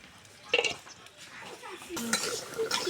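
A metal lid comes off a cooking pot of fish curry with a bright clank, followed a moment later by more clinks and scraping of cookware, close and fairly quiet.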